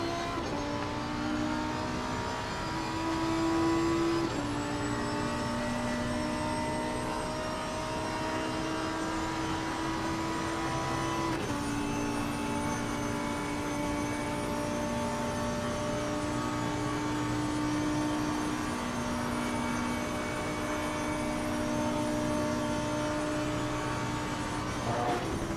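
A GT3 race car engine in a racing simulator holds full throttle climbing uphill at the Nürburgring, a continuous loud roar with rising tones and brief shifts, no talk over it.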